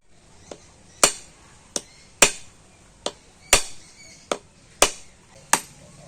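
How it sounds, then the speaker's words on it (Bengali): A coconut being cracked open in a kitchen, about nine sharp, separate knocks at uneven intervals, close and fairly loud, with no talk. "প্রথমে আমি নারকেলটা ফাটিয়ে নেবো"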